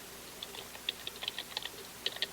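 Faint keyboard typing in a sports-show podcast setting, light irregular clicks in quick bursts, distant and soft under a steady background hiss, no speech.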